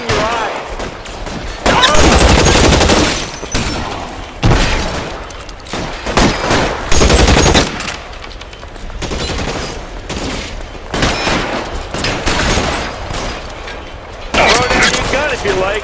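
Bursts of gunfire in a shootout in the LA Noire video game, volleys of rapid shots in loud waves with pauses between, a voice talking over parts of it.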